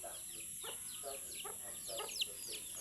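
Chicks squabbling, giving rapid high-pitched peeps and chirps in repeated bursts over a steady background hiss, close and fairly loud.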